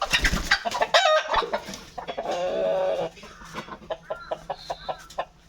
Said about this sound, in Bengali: এই টাইগার মুরগিটা আপনাদেরকে দেখায়